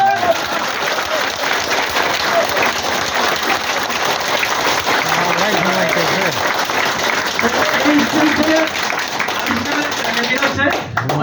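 Sustained audience applause from a gathered crowd at a health talk, a steady dense patter of many hands clapping throughout, fairly loud and near, with some voices faintly mixed in.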